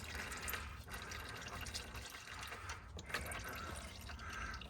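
Transmission fluid draining from a 2011 Range Rover L322 5.0 supercharged, a steady low liquid trickle with faint dripping under constant background noise, fairly quiet throughout.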